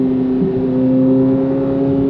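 A Chevrolet Corvette C8 Z06 cruising at 40 to 50 mph in track mode on the street: a steady, loud droning engine hum holds one even pitch throughout with no shifts.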